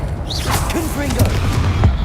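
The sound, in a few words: Confringo blasting curse explosion in video game Hogwarts Legacy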